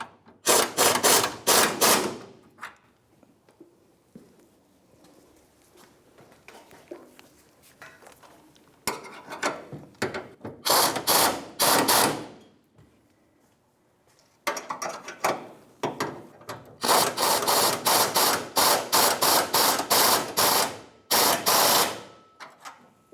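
A ratchet wrench tightens the bolts on the rear fuel tank straps of a 1992-1996 Ford F-150, sounding as bursts of fast, crisp clicking separated by quiet pauses, close and alone.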